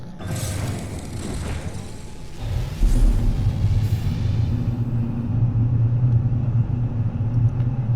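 A fully upgraded living ship in No Man's Sky lifts off with a deep, loud rumble that swells after a few seconds of rushing noise and then holds as a steady low engine drone, with no voices.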